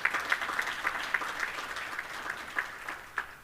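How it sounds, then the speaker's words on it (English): Light audience clapping at a college employee recognition and retirement ceremony, scattered individual claps standing out over a soft, thin wash of applause, fairly quiet and without talk. "Let's give a round of applause to those celebrating 10 years of service."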